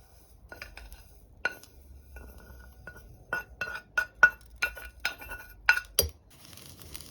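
Toasted seeds, browned in a pan for a Nepali cucumber and potato pickle, rattle and clink into a pestle and mortar in a run of sharp, close taps and small glassy ticks over several seconds.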